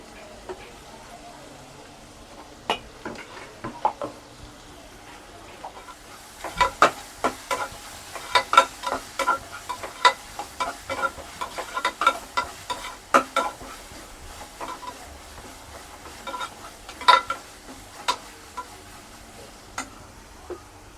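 Ginger garlic paste fries in a pan for chicken kuruma, with soft sizzling and repeated sharp scrapes and taps of a spoon stirring against the pan, quiet at first and then busier.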